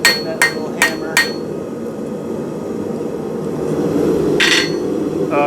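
A blacksmith hammers forged steel throwing spikes (bo shuriken). Four quick, sharp ringing blows come first, then two more spaced strikes over a constant roaring hum from the forge.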